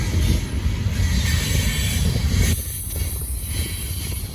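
A heavy Norfolk Southern freight train creeps slowly past on the Charlotte District, a loud, close rumble of cars with high wheel squeal and a noticeable drop in the rolling noise partway through.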